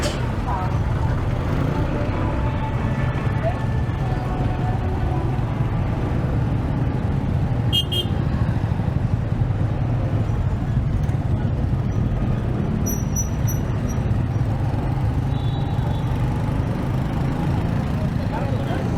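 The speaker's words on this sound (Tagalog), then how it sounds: "daming tricycle dito ah" Steady road traffic with motorized tricycles passing along a road in Alcala, a continuous low engine drone with occasional brief higher-pitched whines and chirps, voices speaking over it.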